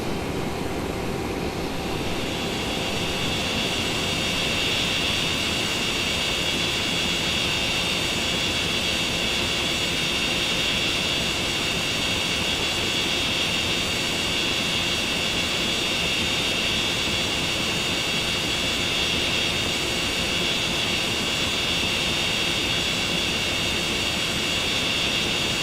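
Steady jet roar of a plane departing Seattle airport in the FSX flight simulator, a loud continuous engine whine and rumble that holds unchanged with no talk.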